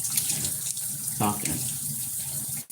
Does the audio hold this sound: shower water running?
yes